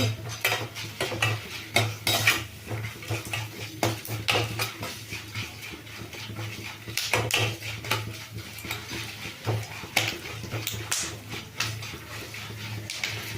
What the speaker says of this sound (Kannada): ಕಡಲೆ ಬೀಜ ಬೇಳೆ ಚಂದಕ್ಕೆ ಫ್ರೈ ಆಗಬೇಕು